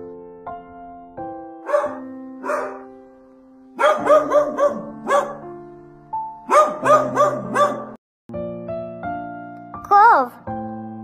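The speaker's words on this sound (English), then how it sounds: "dog" A dog barks in several quick clusters of sharp yips and woofs, loud and close, over a sustained musical accompaniment.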